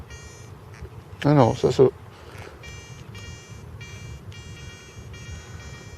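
A metal detector sweeping for coins gives repeated short high-pitched electronic tones in evenly spaced bursts, faint to moderate, with a brief spoken remark near the start.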